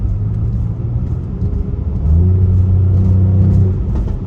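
A Mercedes-Benz AMG GLE 43 engine hums at a steady low rumble, then swells louder and rises in pitch as the vehicle accelerates out of a corner, heard from inside the cabin.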